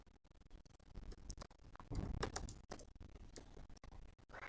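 Rapid keystrokes on a computer keyboard as a business address is typed in during vendor entry in QuickBooks 2021, a close, steady patter of clicks with a denser burst midway and no talking.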